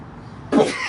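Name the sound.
sneeze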